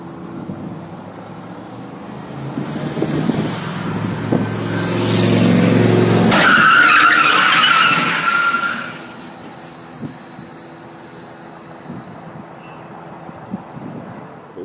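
A stunt car on a movie set roars in, building to a loud, harsh skid and crash burst that lasts a couple of seconds, then gives way to quiet outdoor background with scattered small knocks.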